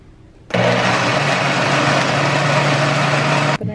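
A kitchen blender grinds peanuts with condensed milk, a loud steady whir that starts abruptly and runs unbroken for about three seconds before cutting off, with no talking.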